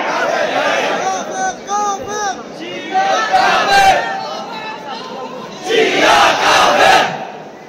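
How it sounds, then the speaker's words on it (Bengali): Crowd of voices shouting slogans in unison, loud and near, in repeated surging bursts with short pauses between, over a background of crowd hubbub. "এই মুহূর্তে স্লোগান দিবি কাফের কাফের শিয়া কাফের"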